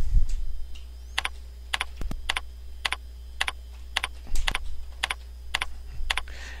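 Keystrokes on a computer keyboard entering a filter name in GoldMine Premium Edition software, a steady run of crisp, close taps in short bursts with brief pauses between, alone over a faint background hum.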